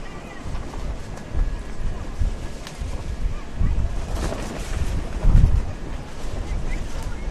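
Strong wind at Ho'okipa beach in Maui during a windsurfing contest, buffeting the microphone in uneven gusts with surf rumbling beneath and faint voices in the background.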